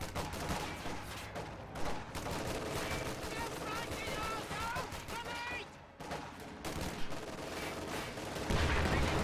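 Machine gun fire in a strategy video game, a dense continuous fusillade of rapid shots mixed with other game effects, heard under people talking.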